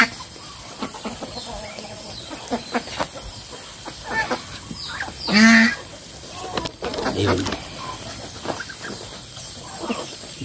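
Farmyard chickens cluck in short scattered calls nearby, with one louder squawk midway and faint talk in the background.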